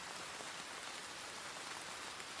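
Steady rain falls across a surface in a soft, continuous hiss, even and unbroken with no voices, like a quiet rainy backdrop.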